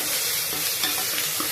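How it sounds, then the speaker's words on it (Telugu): Turmeric and ginger-garlic paste hitting hot oil in a pan for Telangana-style mutton curry, a close, dense continuous sizzle with stirring scrapes throughout. "ఇప్పుడు పసుపు, అల్లం వెల్లుల్లి పేస్ట్ వేసేసుకుంటున్నాము."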